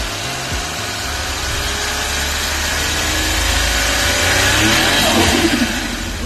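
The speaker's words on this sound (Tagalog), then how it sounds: "Tahimik yung makina niya." A Suzuki DA64W turbo engine with automatic transmission runs steadily and smoothly, its hum rising slightly as it revs, close and continuous with no talking.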